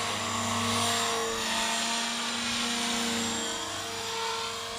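A radio-controlled Blade 300 CFX helicopter flies outdoors on a breezy day, its whining rotor and motor droning steadily and fairly loud with slight swells in pitch, mixed with wind noise.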